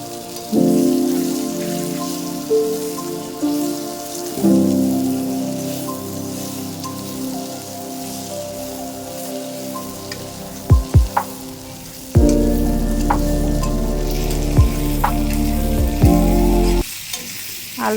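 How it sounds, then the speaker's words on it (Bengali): Potatoes frying in the oil left from frying fish, a loud close crackling sizzle that shifts as pieces are stirred, with a few sharp clinks and a brief drop in the middle, no voices. "মাছ ভাজা তেলের মধ্যে আলুগুলো ভেজে নেব।"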